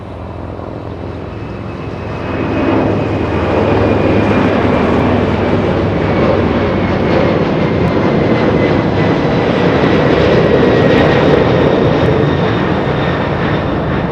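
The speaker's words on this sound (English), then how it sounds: "MD-11 flight 1234 flying to Memphis, Tennessee." An MD-11 jet takes off at Los Angeles International, bound for Memphis: a loud, steady engine roar swells after the first two seconds and holds strong to the end, with a faint whining tone running through it and no voices.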